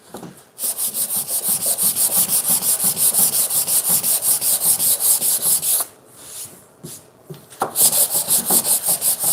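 Rough spots on a wooden board are knocked down by hand, heard as loud, close, rhythmic back-and-forth rasping strokes that pause briefly midway and then resume, with no voices.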